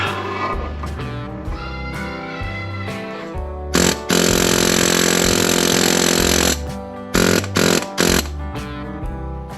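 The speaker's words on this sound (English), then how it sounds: "We're using the air hammer." Loud, harsh pneumatic air hammer hammering in sustained bursts while replacing the carrier bearing on a Polaris RZR Pro XP, with a long continuous blast in the middle and shorter rattling bursts around it.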